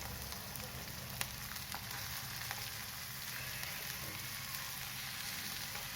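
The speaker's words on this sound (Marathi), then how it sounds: "थोडेसे तेल टाकून कांदा परतून घेते." Chopped onion frying in a little oil in a pan, a faint, steady, even sizzle with a few small ticks and pops, quiet and unaccompanied by talk.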